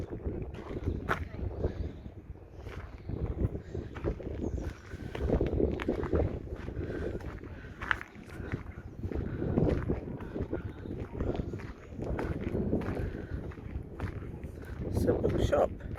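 Strong wind buffets the microphone in loud, gusting bursts, with a person speaking now and then under the roar.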